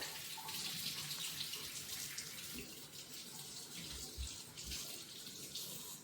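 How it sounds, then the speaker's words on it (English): Tap water runs steadily into a kitchen sink while hands are washed, a faint continuous hiss and splash with a few soft knocks, fairly quiet and without talk. "let me wash my hands because it's"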